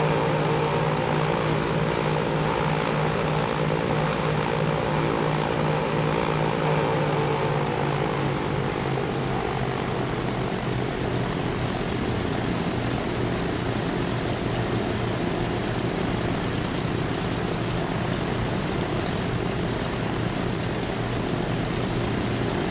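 Continuous propeller airplane engine drone in the game Transport Fever 2, its pitch slowly sliding downward as the plane descends to land near London, steady and loud throughout.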